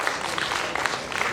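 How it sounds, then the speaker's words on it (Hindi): Audience at an open mic poetry event applauding a poet, a short, moderately loud burst of scattered clapping from a small crowd. "जोरदार तालियां शिवम के लिए।"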